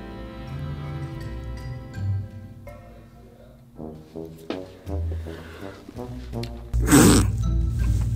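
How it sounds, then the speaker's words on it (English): Farting sounds from someone hidden during a hide-and-seek game in a house: low buzzy bursts break out over a background of tonal noise, with a louder, rougher blast near the end. "Why were you farting in there?"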